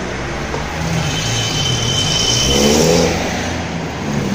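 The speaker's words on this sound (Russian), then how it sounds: "Движуха машин под окошками." Steady car traffic rumbles along a city street in Anapa, with one vehicle's engine swelling louder as it passes nearby before fading back into the continuous road noise.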